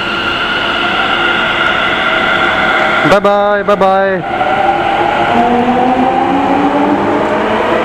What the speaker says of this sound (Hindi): अफसोस कि मैं इस वाली मेट्रो को नहीं पकड़ पाया।